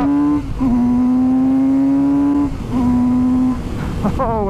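A Kawasaki Z900 RS motorcycle accelerates hard in first gear, its loud, steady engine note droning close by, briefly dipping between pulls and then climbing sharply again at the end.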